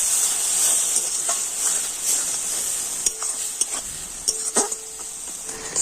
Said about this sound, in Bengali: জল দিয়ে সমস্ত মশলাগুলো খুব ভালো করে কষিয়ে নেব